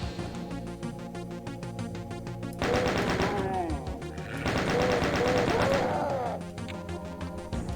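Rapid chaingun and shotgun fire in Doom on the Arrival map, two dense bursts of repeated shots with crashing impacts, loud and close, separated by steadier background game noise.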